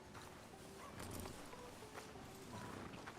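Horse hooves clip-clop at a walking pace in Red Dead Redemption 2, a steady run of soft, moderately close hoof falls over outdoor ambience.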